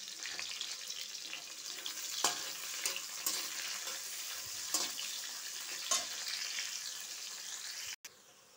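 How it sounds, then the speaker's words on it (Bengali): Chopped onions sizzle steadily in a pan for a jackfruit and prawn curry, a continuous bright crackle broken by a few sharper stirring scrapes and clicks, close and loud with no talking, ending abruptly. "পেঁয়াজটাও আমার লাল লাল করে ভাজা হয়ে গিয়েছে"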